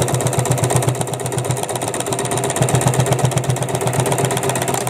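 A sewing machine runs a reverse stitch up close, hammering out a fast, steady mechanical rhythm of rapid pulses that carries on loudly throughout without speech.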